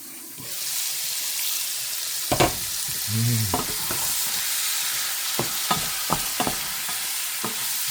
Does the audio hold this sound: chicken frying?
yes